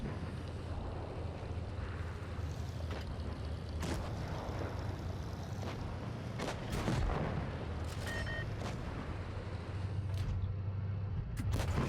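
Tank cannons boom in World of Tanks Blitz: several sharp blasts spaced apart over a steady engine rumble, some close and loud, others more distant, with no talking.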